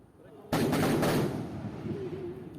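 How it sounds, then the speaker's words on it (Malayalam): Loud firecracker blasts set off as a temple offering (vedi vazhipadu) in Kerala: a sudden sharp burst followed by a rapid cluster of bangs, then a long rumbling echo fading slowly. "അപ്പോൾ അതേ ഇവിടെ വെടിവഴിപാട് നടത്തുന്നുണ്ട്."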